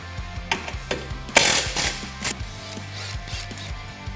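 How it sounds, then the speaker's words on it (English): A ratchet wrench clicks rapidly in repeated bursts while backing out bumper bracket screws on a Kawasaki Teryx, close and crisp, with a louder metallic clatter partway through. "Then remove the two screws located below here that hold this bracket on."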